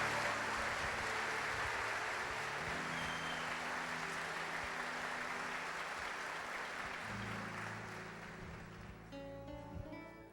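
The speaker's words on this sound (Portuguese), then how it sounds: "Pode aplaudir." Sustained applause from a congregation at a Catholic healing service, a dense, steady wash of clapping hands that fills the space and slowly thins toward the end.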